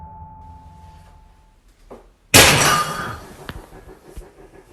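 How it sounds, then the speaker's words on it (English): A potted plant falls over indoors: after a quiet, low hum, a sudden loud crash of breaking and clattering pieces that decays over a second, followed by a few faint knocks. "According to Cardino, the sound was one of her plants falling down"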